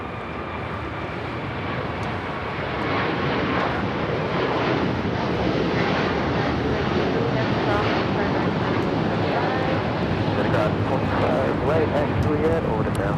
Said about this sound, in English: 740 taking off to Doha on the A350 1000